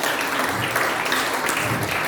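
A church congregation claps loudly together in dense, continuous applause for about two seconds, with no voices rising above it.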